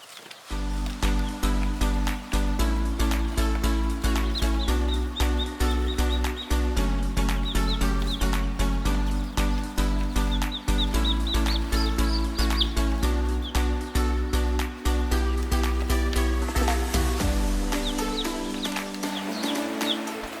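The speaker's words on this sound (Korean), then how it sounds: "아침에 태어난 병아리와 메아리입니다." Newly hatched chicks and quail peep with high, thin chirps in scattered bursts, set against steady, loud background music that runs throughout.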